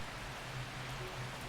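Steady, soft hiss of rain falling in the game Strange Horticulture, continuous with a faint low hum underneath.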